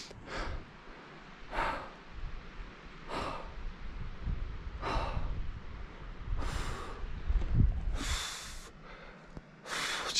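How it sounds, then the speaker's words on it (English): A hiker gasps for air at around 15,000 feet in the Nepal Himalayas, with heavy, rhythmic, close breaths repeating every second or so over rustling wind noise. "Oh, so out of breath."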